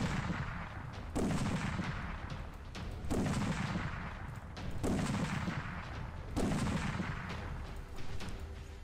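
Heavy gunfire from a weapon in the video game ARK Survival Evolved during a Giganotosaurus boss hunt, four loud booming shots spaced about two seconds apart, each with a rumbling tail, over continuous game noise.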